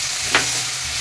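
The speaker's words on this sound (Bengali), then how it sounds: "এবার দিয়ে দেবো কুচি করে রাখা টমেটো" Chopped tomato goes into a pan of frying onions for egg bhurji, bringing a steady close sizzle and one short, sharper hiss of the hit as it lands, then an even crackle.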